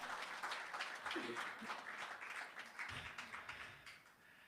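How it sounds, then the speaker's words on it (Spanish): Congregation applause in a church, a broad wash of clapping at moderate level with a few louder taps and faint voices mixed in beneath it. "Un aplauso a Cristo por su palabra."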